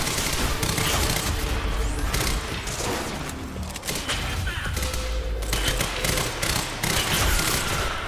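Sustained gunfire in the Quantum Break video game, dense and loud throughout, with rapid bursts, thumps and booms layered into a continuous battle din.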